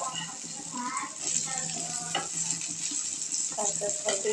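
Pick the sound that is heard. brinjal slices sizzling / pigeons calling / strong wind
brinjal slices sizzling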